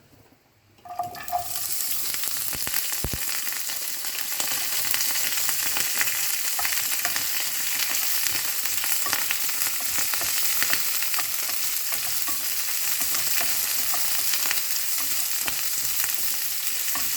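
Mustard seeds, dried chilli, garlic, shallots, ginger and curry leaves dropped into hot oil, bursting into a loud, continuous crackling sizzle that holds steady close by, with occasional pops.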